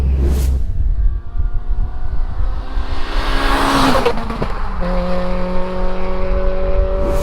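A road-legal Renault Clio rally car revs hard, its engine note climbing and falling through loud, raspy sweeps. Sharp pops and crackles follow, then it settles to a steady droning tone. The sound is close and dominant throughout.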